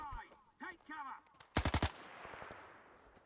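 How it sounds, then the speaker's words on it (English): Rapid burst of about five gunshots from a firearm in S.T.A.L.K.E.R. 2, fired through a wall, loud and close, ringing out after a stretch of speech and trailing into a noisy decay. "this person is doing well at shooting me through the wall"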